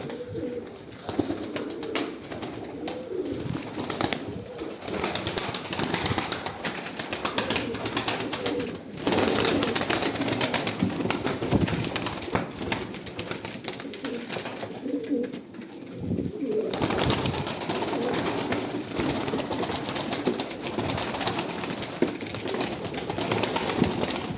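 Pigeons coo steadily at close range, in a repeating soft rhythm, among a flock of tumbler and crested breeds. Occasional wing flaps break in, and the cooing dips briefly twice.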